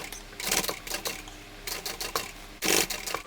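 Sewing machine basting a quarter-inch seam on a tote bag, running in short, fast bursts of rapid needle clatter with pauses between, close and fairly quiet.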